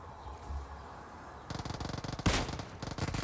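Gunfire from a Kar98 bolt-action rifle in the PUBG Mobile video game, with a quiet stretch giving way to a burst of rapid, loud, repeated shot sounds and one sharp, prominent crack, all without talk.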